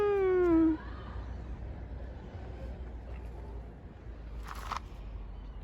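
A single drawn-out meow at the very start, close and fairly loud, then quiet background hum with a brief faint noise later.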